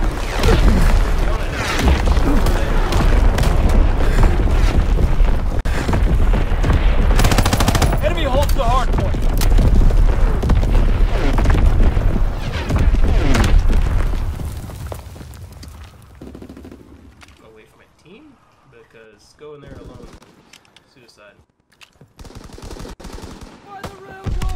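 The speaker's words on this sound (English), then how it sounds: "Incoming enemy artillery." Loud, dense gunfire and heavy artillery explosions in a Call of Duty WW2 multiplayer battle, with a voice heard in the mix; the barrage is continuous for about fifteen seconds, then drops to sparser, quieter shots and distant booms.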